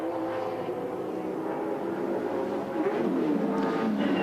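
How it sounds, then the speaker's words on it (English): A Ford Falcon touring car engine, Dick Johnson's Shell Falcon, roars continuously from onboard at the 1993 Bathurst 1000, a loud, dense drone with shifting revs and no speech. "So we go back aboard Dick Johnson's Shell Falcon."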